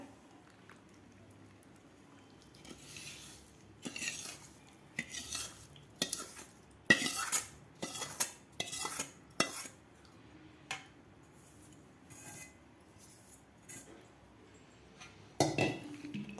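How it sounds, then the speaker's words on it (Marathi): Sun-dried raw mango pieces being mixed with pickle masala for mango pickle, a run of irregular scraping and clinking strokes of a spoon against a vessel, close and fairly quiet, separated by short pauses. "आता आपण या फोडीमध्ये मसाला घालून घेऊया"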